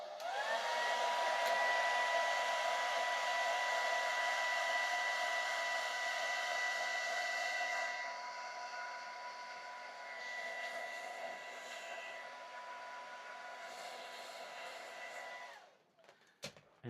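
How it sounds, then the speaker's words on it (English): A hair dryer blows steadily to dry fresh paint, a loud continuous whine and rush that drops to a lower setting partway through before switching off near the end. "I'm gonna dry it up really fast a little bit with the hair dryer."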